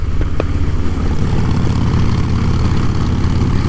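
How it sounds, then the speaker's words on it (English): Loud, low V-twin engines drone steadily with a rough rumbling pulse, wrapped in buffeting wind noise, as if riding along on a motorcycle near Riyadh. "the wind noise and the sound of the motorbikes, the sound of the V-twin"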